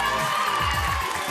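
A game-show studio audience cheers and shouts for the day's winning team, a brief, dense and loud crowd roar with whoops.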